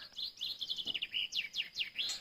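A small bird chirps repeatedly in quick, high-pitched bursts, a lively sequence of tweets over faint background hiss.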